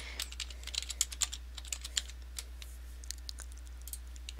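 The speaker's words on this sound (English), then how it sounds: "I can go in and type in a specific heading" Close, quiet keystrokes on a computer keyboard tap out in an uneven run of clicks over a low steady hum, with no talk.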